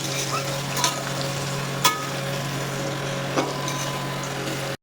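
Potato pieces fry in hot oil with turmeric and salt, giving a steady close sizzle broken by a few sharp scrapes and clinks of a spoon stirring against the pan.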